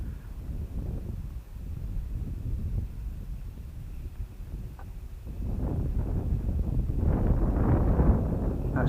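Strong gusts buffet and rumble across the microphone outdoors during a very windy test flight of a cheap foam beginner RC plane, a continuous low roar that swells louder toward the end, with no talking.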